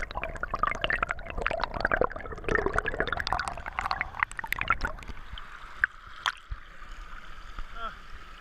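A stream with a strong current splashes and gurgles close by, with busy broadband rushing that eases into calmer trickling and a few distinct drips near the end.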